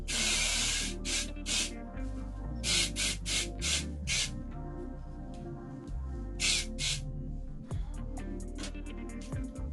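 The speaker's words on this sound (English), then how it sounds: "freeze spray." Freeze spray hissing out of a can in short bursts while hair is styled into passion twists, several close blasts of varying length separated by brief pauses, over a soft background hum.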